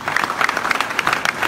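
An outdoor crowd at a political rally in Treviso applauds, producing a loud, continuous patter of clapping with uneven bursts and no voices over it.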